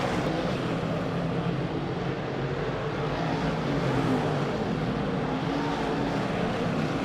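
Big block modified race cars roar around the Weedsport Speedway dirt oval in a dense, continuous engine drone, moderately distant and steady throughout.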